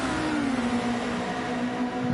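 GT1 race cars in a racing game at the Autopolis circuit, a loud continuous engine drone with a pitch that slides down as the cars pass, no voices.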